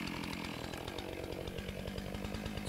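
A chainsaw cuts into a standing tree that is being felled with a pulley line, its engine buzzing steadily with a fast rhythmic chatter at moderate distance.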